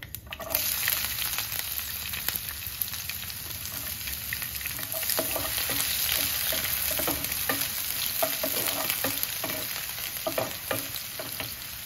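Mustard seeds, cumin and onions frying in oil for vada pav, a loud, continuous close sizzle with occasional spoon stirs and light crackles.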